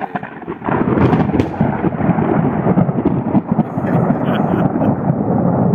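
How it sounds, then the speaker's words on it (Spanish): Thunder rolls loud and continuous over steady rain in an outdoor desert setting in Coahuila, a sustained rumbling wash with a few sharper crackles near the start. "Bienvenida la lluvia que nos va a caer un poco."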